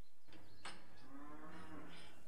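Cattle in the farming video game Farming Manager give a long, loud, drawn-out moo that fills the whole moment, heard clearly alone without talk.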